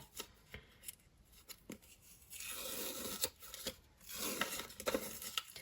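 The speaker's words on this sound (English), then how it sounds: "stick and stitch is double-sided, so you should just be able to peel the back off like a sticker" Double-sided stick and stitch backing sheet peeled away from a needle felting craft piece, giving a near, dry crackling rip in two longer stretches between a few light taps and handling noises.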